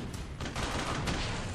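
Gunfire in the WWII shooter game Brothers in Arms: Hell's Highway, a rapid fusillade of overlapping shots in quick bursts, loud and dense, with a sharper crack near the start and another partway through.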